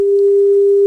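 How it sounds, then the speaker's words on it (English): Two sine waves played together as one steady pure electronic tone held without change, loud and continuous, with no talking. "here's the two sine waves at the same time."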